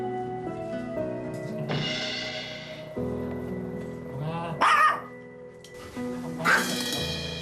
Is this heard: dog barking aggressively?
yes